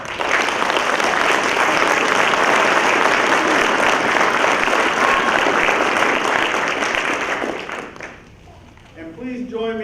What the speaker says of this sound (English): Please give our retirees another round of applause.